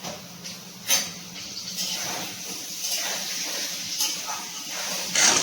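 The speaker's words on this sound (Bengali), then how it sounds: "এবারে আমি হলুদ দিয়ে দেবো, মানে পরিমাণ বুঝে আলুটা ভেজে নেবো।" Potato pieces seasoned with salt and turmeric fry in a pan, giving a soft, steady hiss with a few sharper spits and crackles; fairly quiet, with no talk.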